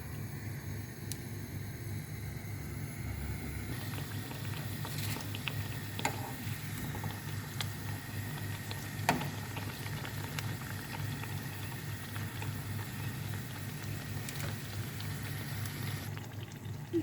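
A raw potato snack fries in hot oil on a tawa, giving a steady, soft bubbling hiss that runs evenly throughout with a few faint ticks and pops, and no voices.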